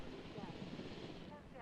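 A helicopter in the video game Jurassic World Evolution gives a steady rotor and engine rumble that stays even and close for the whole moment.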